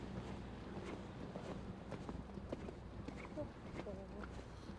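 A young, hot-blooded mare is ridden in training, her hooves thudding in a soft, regular rhythm beneath continuous commentary from a voice, with light wind noise on the microphone.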